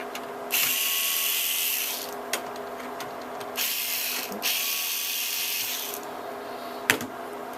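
Small screws driven out of the riser of an HP ProLiant DL360 G7 server with a power screwdriver, which whirs loudly in several long, steady bursts with brief breaks between them.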